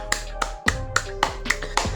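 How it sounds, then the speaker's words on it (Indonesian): Hands clap in a quick, even rhythm, seven sharp claps about a quarter second apart, over a steady tonal background. "Tepuk tangan buat Asurix guys ya."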